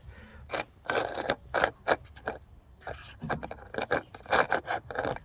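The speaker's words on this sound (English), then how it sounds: "So just get an old knife. What I tend to do is sharpen it, give it a sharpen up" An old knife is sharpened with repeated rasping strokes, a series of short scraping bursts in an uneven rhythm, close and moderately loud.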